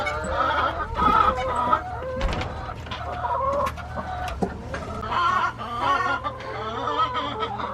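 Several chickens from a flock of about two dozen cluck and squawk steadily in a barnyard, close and fairly loud, with bursts of busy overlapping calls and a distant crow or two.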